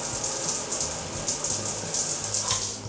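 Hotel shower running on the 10th floor with good water pressure, a loud, steady close hiss of spraying water that continues unbroken throughout.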